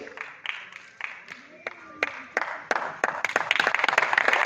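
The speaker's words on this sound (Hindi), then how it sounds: "जोरदार तालियां, जोरदार तालियां।" An audience at a talk claps, starting as a few scattered sharp claps and building into denser applause over a few seconds. A voice talks underneath.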